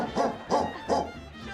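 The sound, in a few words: human voice actor imitating dog barking in Seinfeld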